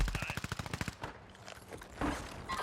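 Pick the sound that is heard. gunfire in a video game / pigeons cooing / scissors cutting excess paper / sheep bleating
gunfire in a video game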